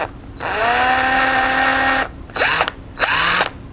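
A power drill whirs steadily for about two seconds, then gives two short bursts, each spinning up and winding down, close by, during core support repair on a Mitsubishi Eclipse.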